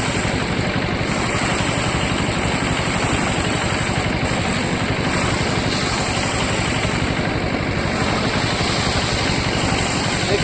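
Motorised paddy-threshing machine running continuously, a loud, steady engine drone with a rough mechanical rattle that stays at an even level throughout.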